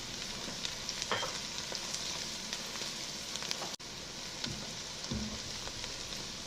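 Garlic sizzling steadily in a pot for a crawfish bisque, a dense continuous crackle with occasional spoon scrapes and a brief dip partway through.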